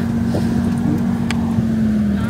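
Kei car moving forward in first gear on a forest track, with a steady, close engine drone and a constant low hum throughout.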